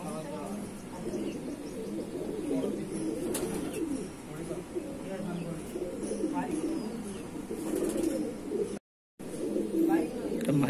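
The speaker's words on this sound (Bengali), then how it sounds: "মাদি পায়রা" Madrasi pigeons coo softly and continuously in a loft, under steady nearby conversation, with a short dropout near the end.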